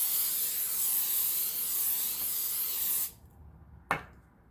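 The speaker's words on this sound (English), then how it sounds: "one final spray of your cooking spray of choice" Cooking spray hisses from an aerosol can in a steady, close spray over a mac and cheese bundt for about three seconds, then stops, followed by a brief sharp knock.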